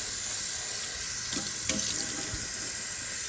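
Steady running tap water pours and splashes continuously into a jar of broccoli sprouts being rinsed, with a few faint clinks partway through.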